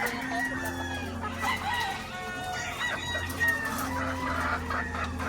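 Laying hens clucking steadily at feeding time in a farm coop, a loud, close chorus of overlapping clucks with a rooster crow mixed in.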